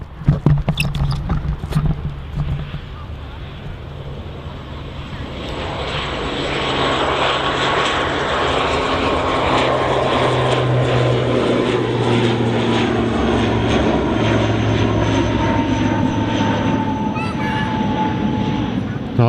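An ATR turboprop airliner rolls for takeoff at Manchester Airport, its propeller engines building into a loud, steady roaring drone that holds for many seconds, with people talking near the start.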